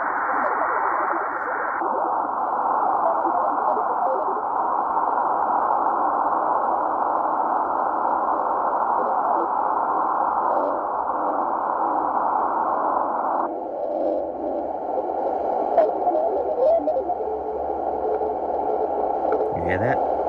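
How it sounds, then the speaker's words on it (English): A Tecsun PL-330 radio receives a Morse code or teletype-like signal, a steady, continuous shortwave tone that holds one pitch and then drops to a lower one partway through, over faint static with small clicks near the end. "It's like Morse code, like a teletype or something."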